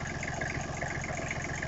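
A small diesel engine, a Briggs & Stratton unit taken from a mower, runs close by at a steady idle with a continuous low throb and an even mechanical hum.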